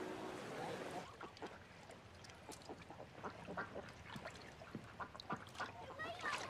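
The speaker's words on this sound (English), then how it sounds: "See that duck?" A duck quacks repeatedly in short, choppy bursts at moderate distance, scattered across the scene amid faint outdoor background noise.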